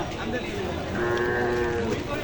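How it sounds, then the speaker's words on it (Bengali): A newly bought cow moos once, a long, loud, close bellow lasting under a second, amid outdoor bustle as cattle are loaded onto a vehicle, with faint background voices. "আর একটা গরু কিনলাম তেষট্টি হাজার টাকা দিয়ে দেখেন গরুটা কেমন হয়েছে"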